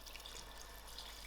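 Three cups of hot water pour into a cooking pot for an ostrich goulash, a soft continuous splashing trickle, faint and steady, with no voices.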